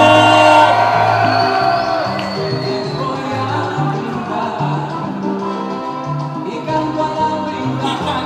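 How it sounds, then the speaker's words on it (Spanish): A crowd at the El Sur Vive Fest 2017 concert whoops and shouts loudly at first, then the cheering settles into a sustained mix of voices with music-like tones underneath. "Un grito fuerte por todos los artistas de Gallegos."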